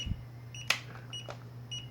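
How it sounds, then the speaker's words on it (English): A Mirarobot M600 radio transmitter that will not arm the aircraft's motors gives short, faint electronic beeps, repeating at close range over a low steady hum. "it just keeps on beeping and will not arm the aircraft"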